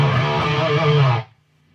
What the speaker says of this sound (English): Playing through my Marshall Joe Satriani model.